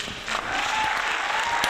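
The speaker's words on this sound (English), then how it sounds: "Give yourselves a round of applause, folks." Studio crowd or audience applause closing a live retro gaming trivia stream, a steady wash of clapping that holds at even loudness for under two seconds with no voices over it.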